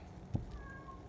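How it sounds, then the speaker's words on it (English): A faint, brief house cat meow rises once in the middle of quiet kitchen background noise. "that's my cat want to go outside in the freezing weather"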